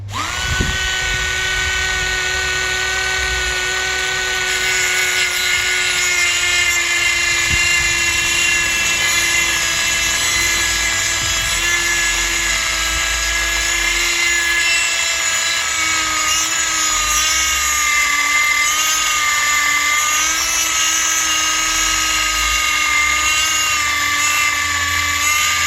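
A loud, steady high-pitched whine of a power tool cutting through a muffler's metal, continuous and close for the whole stretch with no talking.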